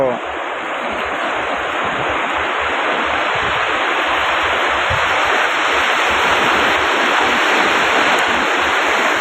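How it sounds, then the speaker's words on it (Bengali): Sea waves at Mandarmani beach: a loud, continuous broadband roar of surf close by, with strong wind-like rumble, steady throughout and no clear voices. "জলটাও দেখেছেন, সমুদ্রের ঢেউয়ের জল"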